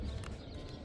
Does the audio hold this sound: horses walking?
yes